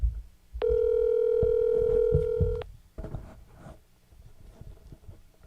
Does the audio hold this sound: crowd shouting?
no